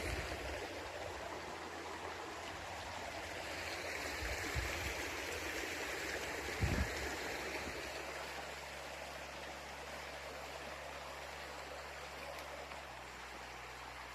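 A river flows past a garden in Brittany, giving a steady, even rush of water that holds at a soft, constant level for the whole stretch, with a faint low hum joining partway through.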